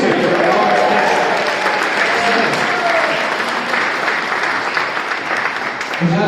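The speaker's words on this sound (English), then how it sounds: "round of applause for Richard" A convention audience breaks into a round of applause, a dense continuous clatter of many hands that holds steady throughout, close and loud, with faint voices mixed underneath.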